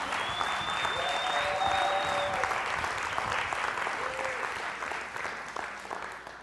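A church congregation at an evening service bursts into sustained applause, a dense steady wash of many hands clapping with a few whistles and cheers rising over it, gradually fading toward the end.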